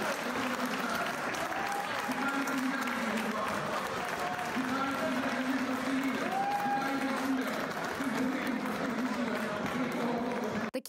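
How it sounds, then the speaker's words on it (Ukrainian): Sustained applause fills the Ukrainian parliament after the vote on medical reform, a dense steady roar of clapping over about eleven seconds with voices mixed in, fading at the end. "Такими оваціями закінчилось у другому читанні голосування Верховної Ради за медичну реформу."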